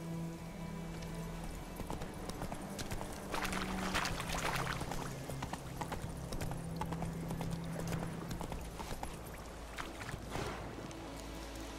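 Roach the horse galloping in The Witcher 3: Wild Hunt, a steady fast clip-clop of hooves that stays close and continuous throughout, under ambient game sound.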